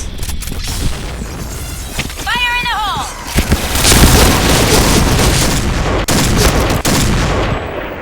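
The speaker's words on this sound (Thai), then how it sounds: "แหลกแหลกระเบิดสองลูกเลย" Excited voices give way to heavy booming blasts from a game, two loud explosions rolling into a long rumbling roar.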